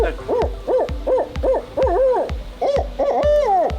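A man imitates a barred owl with his voice, a close, repeated series of rhythmic hoots in a clear owl-like cadence, rising into a longer drawn-out call at the end.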